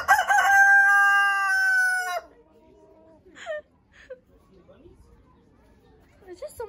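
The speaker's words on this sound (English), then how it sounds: "Look at the rooster." A rooster crows loudly and clearly for about two seconds, followed by quieter scattered sounds and faint voices.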